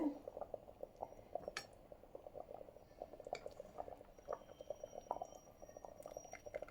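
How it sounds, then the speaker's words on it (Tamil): A pot of fish curry with coriander leaves bubbles on a low simmer, a faint steady bubbling broken by occasional light clinks of a utensil against the pot. "சிம்லேயே வச்சு கொதிக்க வச்சாச்சு"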